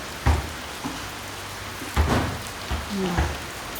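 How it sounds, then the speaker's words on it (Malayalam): Heavy rain falls in a steady hiss punctuated by several nearby thuds and knocks, a continuous downpour heard close with no speech. "നല്ല മഴയുണ്ട്"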